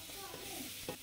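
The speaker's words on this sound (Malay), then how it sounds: "Lepas tu kita goreng dia sikit atau udang sotong tu masak sikit apa dah." Shrimp and squid fry in a pan with a steady, close sizzle and occasional stirring clinks throughout the short stretch.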